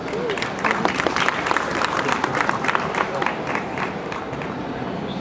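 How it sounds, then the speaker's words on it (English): An audience at a motor show claps after a Honda Asimo robot demonstration, a dense sustained round of applause filling the hall at moderate volume, with faint voices mixed in. "I think that deserves a clap."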